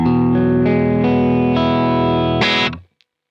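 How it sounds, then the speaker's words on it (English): An electric guitar with a driven, distorted tone plays a few sustained chords without a shimmer plugin, each change clear and close before the sound cuts off abruptly, with no talking. "let me just demonstrate how the guitar tone sounds without the plugin in."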